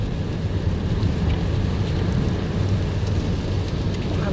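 Steady rain falls outside, heard from indoors by a fogging window as a dense, even hiss with a low rumble beneath, constant and moderately loud throughout.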